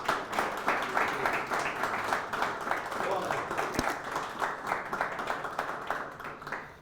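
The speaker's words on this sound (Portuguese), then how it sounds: "Glória e aplaude o Senhor Jesus Cristo hoje de manhã" A church congregation applauds during a morning worship service, producing a steady wash of clapping that runs for several seconds, with voices mixed in.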